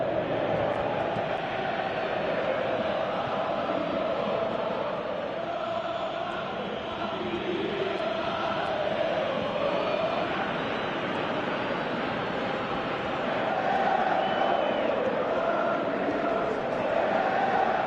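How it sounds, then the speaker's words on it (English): A PES 2018 stadium crowd roars in a steady, broad wash of noise throughout, swelling slightly near the end, with no clear voices standing out. "you can feel and hear how the crowd are reacting to all of this."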